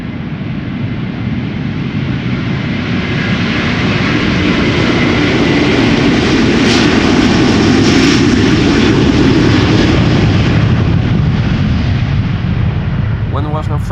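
A Delta airliner roars loudly and steadily at a busy airport runway as it departs, a broad continuous jet rumble that swells toward the middle and stays strong throughout.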